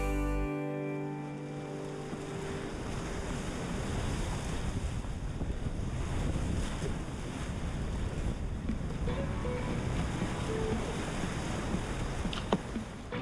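The Eagle River in Gypsum, Eagle County, Colorado, rushes as a continuous broadband flow, heavily mixed with wind buffeting the microphone and no voices.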